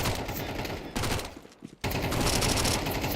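Rapid submachine gun spray in Counter-Strike 2, loud sustained bursts of automatic fire with a brief lull in the middle before the shooting resumes.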